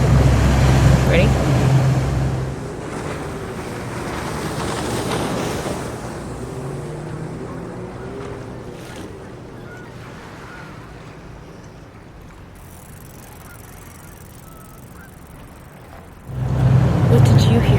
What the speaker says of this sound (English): I heard the motor of a boat.